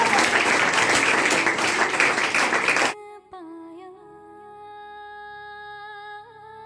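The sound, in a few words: audience applause for Kayanat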